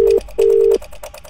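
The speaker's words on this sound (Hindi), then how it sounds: "दोबारा रिंग जा रही है" Two long ringback tones from an outgoing phone call, a short one then a longer one, play loud and steady, with a third ring starting faintly at the end.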